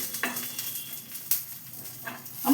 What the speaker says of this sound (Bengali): দেখতে পাচ্ছ একদম কম তেলে আমি এগুলোকে একটু ভেজে নিচ্ছি।